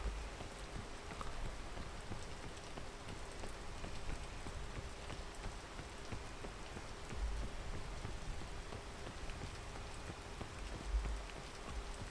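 Rain falling in the climbing video game PEAK: a faint, steady hiss of rainfall on surfaces with soft patters throughout, and a couple of dull low thumps, with no voices.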